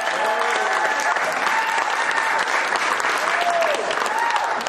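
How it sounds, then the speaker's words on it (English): A crowd at a boxing press conference for Lomachenko and Kambosos breaks into sustained applause, a dense wash of clapping that holds steady for several seconds, with faint voices mixed in. "Let's hear it for Vasily Lomachenko and George Kambosos"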